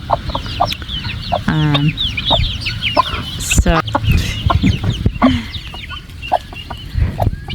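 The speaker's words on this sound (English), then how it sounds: "So it's some of my other chicks that I have running around." Chickens cluck repeatedly nearby while young chicks peep in high, rapid chirps and scurry around, a busy overlapping chorus of farmyard fowl sounds.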